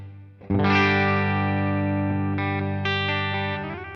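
A distorted electric guitar chord rings out loud and sustained through a Boss Katana 100 Head MKII amp, with a wide, spacious hall reverb wash that slowly fades.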